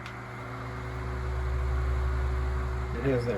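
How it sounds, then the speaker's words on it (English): A Tatung 12-inch oscillating fan runs on its high setting, a steady close whirring hum with a brief voice near the end. "It has that really distinct whirring sound, kind of similar to the Galaxy fans."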